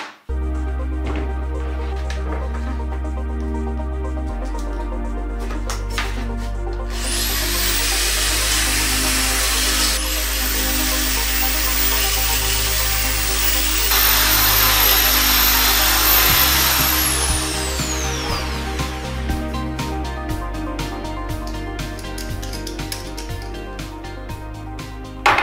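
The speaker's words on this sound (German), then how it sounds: "Dazu verwende ich die Bohrmaschine mit so einem runden Schleifaufsatz hier." Electric drill fitted with a round sanding attachment grinding and smoothing a homemade concrete sink, a loud whining, abrasive roar that starts and stops in several bursts with motor hum between runs.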